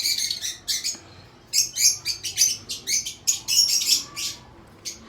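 Young caged lovebirds chirping in quick shrill bursts, several short calls in clusters with brief gaps, fairly close and lively.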